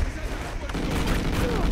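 Gunfire in the Call of Duty Ghosts multiplayer Cranked mode: dense, continuous bursts of shooting and booms filling the whole stretch, loud and busy, with a voice mixed in.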